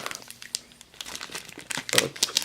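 Adhesive tape is peeled off a paper package of Yu-Gi-Oh cards, followed by close, bursty crinkling and rustling of the paper that grows louder toward the end.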